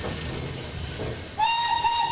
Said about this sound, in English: sound your whistle and go through the tunnel